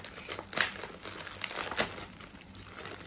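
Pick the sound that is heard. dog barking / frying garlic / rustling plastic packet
rustling plastic packet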